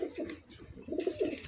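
Giribaz pigeons, a pair of green-toned birds, cooing close by in a repeated rolling pattern of soft throaty calls that swell and fade with brief gaps.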